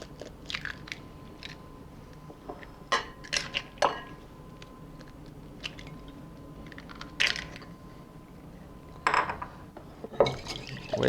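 Three whole eggs are whisked in a bowl for tuna cakes, giving faint, irregular light taps and wet clicks against a low background hiss.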